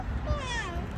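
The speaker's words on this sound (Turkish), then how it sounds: "Miyav diyor." A cat meows in a park, a drawn-out rising and falling cry over background noise, close and clear, with a voice faintly present around it.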